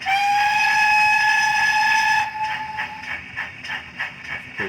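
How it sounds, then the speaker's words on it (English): Long whistle from a Dapol Lionheart O gauge model Pannier tank locomotive: a steady, bright, high-pitched whistle held for about two seconds, then giving way to quieter rhythmic mechanical chuffing and running noise close by. "Let's try the long whistle again."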